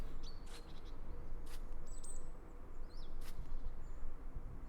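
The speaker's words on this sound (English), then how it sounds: "there's a nice atmosphere with the chirping birds, the noise of walking here" Birds chirp in short, sharp calls over a steady rustling bed of ambient forest noise and walking in the video game Deadroot Grove, the tweets scattered and fairly clear.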